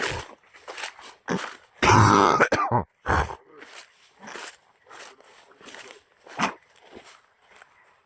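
A series of rough coughs and throat-clearing bursts, one long and loud, the rest shorter and quieter, separated by brief silences.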